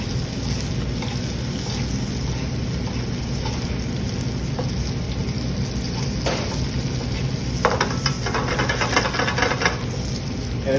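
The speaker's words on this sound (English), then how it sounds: "We're going to baste some butter." Butter sizzles and crackles steadily in a hot pan as it is basted over a pan-roasted pork chop, a dense continuous fry noise with occasional spoon scrapes and brief bursts of spattering, with no talk.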